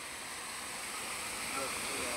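A waterfall at Himayat Sagar in Hyderabad, running with reduced flow after the monsoon, gives a steady, moderately close rush of falling water, unbroken for the brief moment.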